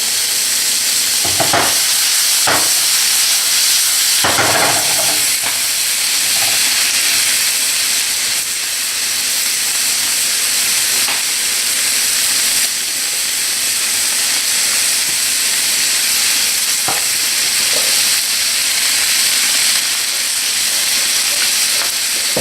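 Beef steak, mushrooms and julienned carrots sizzle steadily in a hot pan, a continuous loud frying hiss with a few brief stirring clatters near the start.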